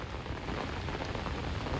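The first monsoon rain of the season falls in a village, a steady, dense hiss of drops that keeps an even level throughout the brief moment.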